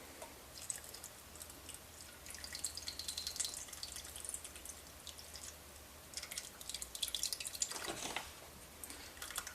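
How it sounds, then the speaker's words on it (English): Evaporated milk pours from a can into a saucepan holding sugar, a faint steady liquid trickle with drips and a brief louder splash near the end, quiet kitchen setting with no talk. "I'm going to add 1 can evaporated milk."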